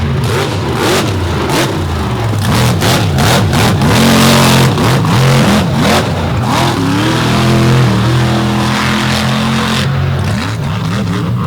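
A truck engine revs hard and continuously on a race track at an all-star championship final, a loud, dense, strained roar held for the whole stretch with slight rises and dips.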